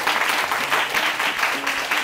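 A studio audience on the Bon Appetit programme applauds loudly for Kibili Djemba Kouyaté, a thick, steady wash of many hands clapping with no break.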